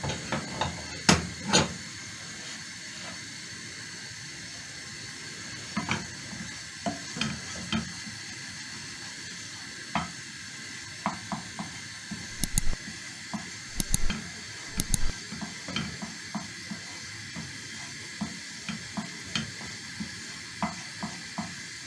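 Ghee sizzling in a pan for sakhina made with bread and molasses: a soft, steady frying hiss with scattered stirring clinks and taps, fairly quiet and close, with no speech.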